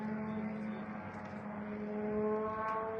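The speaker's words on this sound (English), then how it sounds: "Shahid is screaming, engine is still working" A Russian Shahed drone's engine drones in flight, a steady buzzing tone with strong harmonics holding at moderate loudness and rising slightly toward the end, with no speech.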